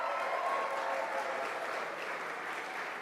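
Sustained applause from a crowd at a political get-out-the-vote rally in Buffalo, a dense, even roar of clapping that fills the whole stretch without pause and only slightly eases at the end.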